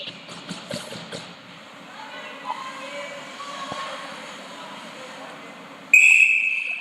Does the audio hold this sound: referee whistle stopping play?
yes